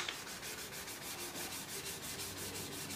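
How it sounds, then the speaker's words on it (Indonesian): Sandpaper rubbed over a surface to smooth it, with steady rhythmic back-and-forth scratching strokes, close and continuous. "Amplas sampai halus."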